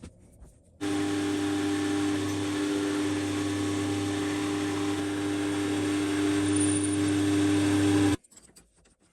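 A steady, loud mechanical whine of a drill boring an M7 hole in scrap metal, running continuously for about seven seconds, starting and stopping abruptly.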